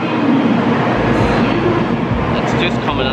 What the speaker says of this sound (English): it's just coming in here now